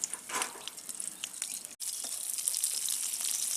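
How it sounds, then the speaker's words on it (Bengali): Slit green chillies fry in hot mustard oil in a kadai, giving a steady close crackling sizzle with a brief break midway, then continuing dense and bright to the end. "তেলটা গরম হয়ে গেছে, আমরা এর মধ্যে চেরা লঙ্কাগুলো দিয়ে দেব।"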